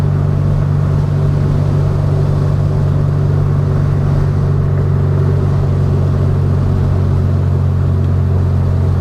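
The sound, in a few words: 1967 VW Beetle driving on the road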